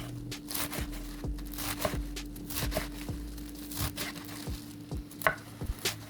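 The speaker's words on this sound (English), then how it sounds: "cut it up about 1 to 2 inches or just cut it in half or however you prefer" Knife chopping fresh washed spinach into 1 to 2 inch pieces on a cutting board for a Filipino mung bean dish, a steady series of close, sharp blade thuds with a low hum running underneath.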